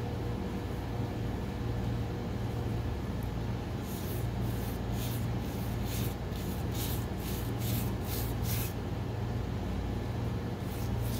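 Satin clear coat finish is sprayed from a can in a series of short hissing bursts, about eight quick sprays over a low steady background hum.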